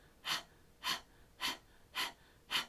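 Kundalini Yoga breath of fire: five forceful panting breaths, evenly spaced about half a second apart, close and alone.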